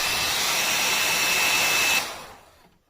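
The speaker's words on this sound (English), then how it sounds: "Hair dryer should theoretically warm it up just enough that we can get it out of there." An old hair dryer, used to warm a part inside a 1978 MCS 3233 stereo receiver, blows with a steady high whirring hiss, then switches off and winds down to quiet.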